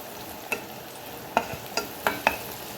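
Mustard seeds crackle and pop in hot oil in a pan while mango pickle is being made, a quiet steady sizzle broken by five or six sharp, close pops.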